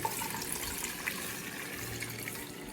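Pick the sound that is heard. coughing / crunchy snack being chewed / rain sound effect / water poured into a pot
water poured into a pot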